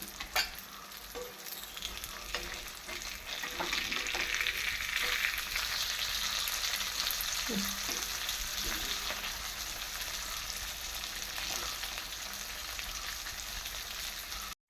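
River fish fry in hot oil with curry leaves, a steady close sizzle and crackle that swells slightly midway, with occasional scrapes and taps of a spatula turning the pieces.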